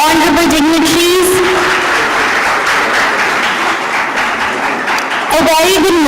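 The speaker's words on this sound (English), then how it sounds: "A big round of applause, everyone, again for our honorable dignitaries." A crowd applauds steadily at a youth conclave, a dense wash of clapping that fills the whole stretch, with a voice briefly heard at the start and end.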